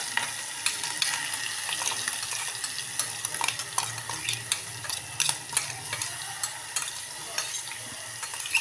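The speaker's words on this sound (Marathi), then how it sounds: "आता वाटलं टाकून देऊ याच्यामध्ये सर्व." Ground spice paste goes into a sizzling pan with cumin for potato vada filling and is stirred, giving a loud, continuous fry and sizzle with frequent close scraping and clinking of a spoon against the pan.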